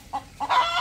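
A hen clucking close by, two short clucks followed by a longer, louder drawn-out squawk, with no talk over it.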